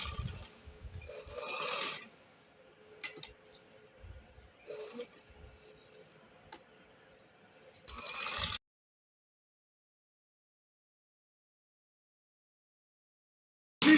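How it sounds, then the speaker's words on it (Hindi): A sewing machine stitches a dress in short bursts of mechanical clatter separated by pauses, then goes silent near the end. "सिलाई लगा रही हूँ मैं, ये हम पूरी लगाएंगे"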